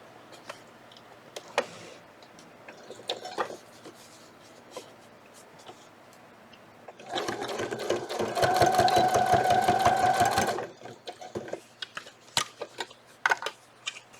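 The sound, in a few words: sewing machine top stitching a fold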